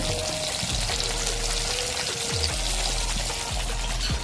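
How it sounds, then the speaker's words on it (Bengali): Fish fry two at a time in a pan over a clay stove, giving a dense, steady sizzle close by, with a few soft low thumps and no talking. "তো এখানে মাছগুলো দেখো দিয়ে দিয়েছি ভাজা হোক"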